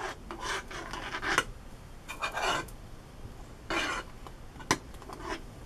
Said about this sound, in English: Now, just stir it around.